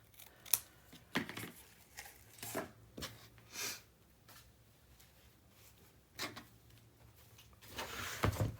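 Scissors cut a piece of paper for a handmade mini album, several separate crisp snips spread out over a quiet workspace, close and moderately loud with pauses between cuts.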